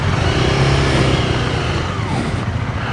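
A 2017 Honda Rebel 300 cruiser motorcycle pulls away in first gear, its engine a loud close rumble with a steady broadband roar of wind and road noise over nearly three seconds, no speech.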